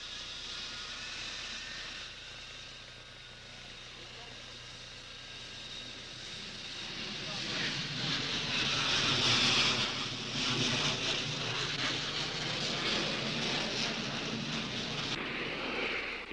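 A military jet aircraft takes off in the distance, a faint rumble swelling into a broad roar that peaks midway and then holds, with wind noise in the background and no voices.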